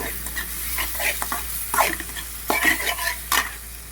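Garam masala is stirred into a gongura egg curry in a pan, with a continuous frying sizzle and a run of close, rhythmic scraping strokes of a spoon.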